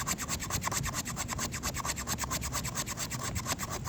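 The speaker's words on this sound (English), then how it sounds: "cut some shavings off like this, or you could do it with a thumb or the back of the knife." A knife blade scrapes fine shavings from a piece of premium fatwood in rapid, continuous rasping strokes, close and loud, with no voices.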